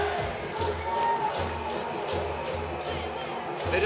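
Crowd at a Taiwan professional baseball game, the Lamigo cheering section, roaring and chanting in a steady rhythm over a low beating drum, loud and continuous throughout.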